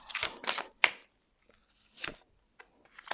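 A single tarot card laid down onto a spread: several soft papery shuffles and slides, one sharp near snap as it lands, then scattered faint card handling with quiet pauses between.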